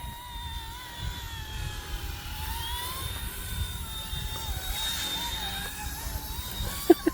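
An RC ERA 186C Pro radio-controlled helicopter flies outdoors in strong wind. Its steady, whining rotor and motor tone rises and falls as it maneuvers over low wind rumble, ending with a couple of sharp clicks.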